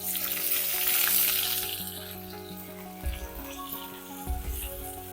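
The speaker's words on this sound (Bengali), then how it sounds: "এবার একটা পেঁয়াজ নিয়েছি দিয়ে দেবো" Onion frying in oil in a pan for a Bengali egg and potato curry, a steady close sizzle with a couple of louder bursts as pieces are stirred or settle.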